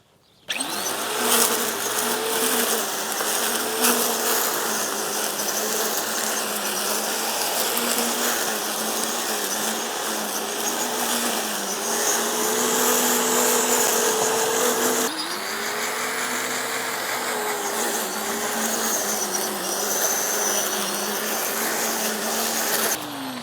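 A string trimmer with nylon line cutting against a wall in an overgrown garden: a steady, loud high-pitched motor whine running continuously for over twenty seconds, with a brief dip in pitch partway through.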